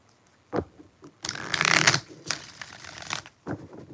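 Tarot cards being shuffled in several quick riffling bursts, close and crisp, with brief pauses between them and no talking.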